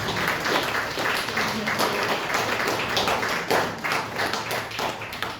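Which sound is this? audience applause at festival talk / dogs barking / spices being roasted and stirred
audience applause at festival talk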